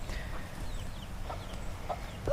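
Hens clucking around young chicks in nursery coops on a farm, soft scattered clucks and short calls over a low steady background, fairly close and quiet.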